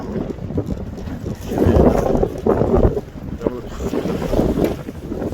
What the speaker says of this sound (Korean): 바람 조금 부네요.